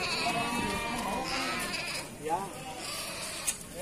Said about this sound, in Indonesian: Domba sehat ya, dia lincah banget ya, tidak mau diam.